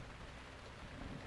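Rainfall in the video game Zelda: Breath of the Wild, a steady, even wash of falling rain with a low rumbling undertone, continuous and fairly faint throughout.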